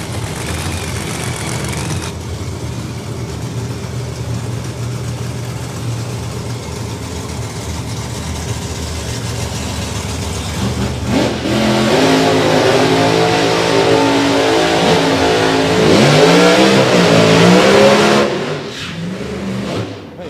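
NGK Anger Management Camaro drag race car, driven by Andy Robinson, idles in a steady loud rumble, then revs up hard with rising and falling engine tones before cutting off abruptly.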